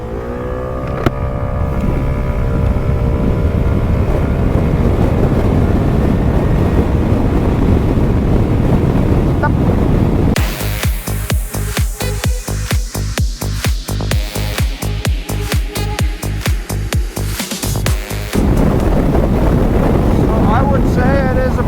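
A 2026 Kymco Super Dink GT 125 scooter accelerates toward 80, its engine droning steadily under heavy buffeting wind noise, then a rapid rattling pulse takes over midway before the smoother drone returns.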